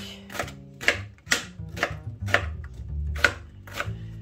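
A knife chops an onion on a board with about eight crisp, evenly spaced strokes, close and clear, each a sharp tap with a short thud beneath, and no talk over it.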